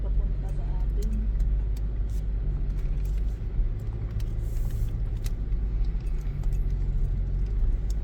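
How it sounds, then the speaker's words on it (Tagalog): A car drives in with a steady low engine rumble and road noise close by, continuous throughout, with people talking over it. "May papasok na sasakyan"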